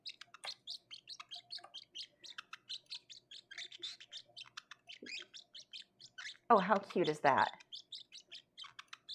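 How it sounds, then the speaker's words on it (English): A baby bird chirps in a rapid string of high, thin peeps that continue steadily throughout, with a short burst of nearby talk cutting in near the end. "I've got baby bird."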